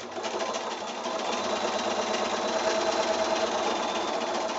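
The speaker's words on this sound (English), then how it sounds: "so we're going to sew that long line first." Sewing machine stitching a long straight seam on a quilt block of 2 1/2-inch strips and squares, a steady close-up whirr that runs without pause the whole time with no talk.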